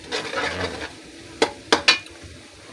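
Pancit canton ingredients, including fish balls, kikiam and squid balls, are stirred in a pan over a soft sizzle, with three sharp utensil clacks against the pan near the end.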